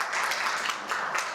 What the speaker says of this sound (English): Can we give a round of applause for Leanne, the Career Services Department,